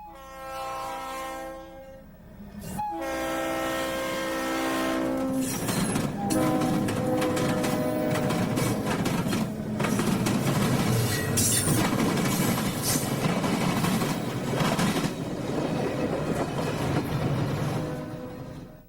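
A Toledo, Peoria and Western local train passes the station at a junction, its horn sounding in long harmonic blasts that give way to the loud, sustained rumble and rattle of the train going by up close.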